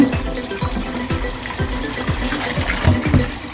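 Tap water gushes steadily from a kitchen faucet into a pot holding meat, a close, continuous rushing fill with no talking.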